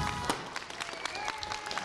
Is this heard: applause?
yes